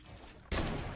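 A single loud, sharp sniper gunshot in a video game, going off abruptly after a quiet moment of low background noise and then ringing out briefly.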